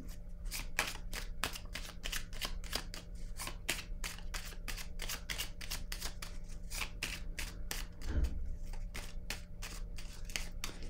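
Tarot cards shuffled and drawn by hand, a rapid, regular run of crisp riffling snaps close by over a low steady hum, with one brief soft thump partway through.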